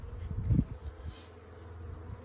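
Honey bees buzz at a hive during honey harvesting, a steady low drone with a louder swell near the start that then continues close and constant throughout.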